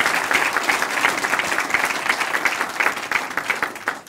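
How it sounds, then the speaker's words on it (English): Sustained applause from an audience at a political campaign event at a grill, steady dense clapping filling the room for several seconds at moderate distance. "Let's give them a big round of applause."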